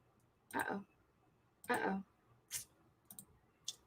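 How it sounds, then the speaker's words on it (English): A computer mouse clicks several times at an office desk, in short sharp bursts spaced about a second apart, fairly close and otherwise quiet. "I just keep clicking things and it's not giving me what I want to do."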